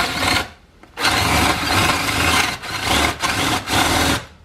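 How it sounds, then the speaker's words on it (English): A power drill with a paddle bit bores into ash wood, a loud continuous grinding whir broken by a few short pauses as the bit is eased off and pushed back in. "So I'm just going to use a paddle bit."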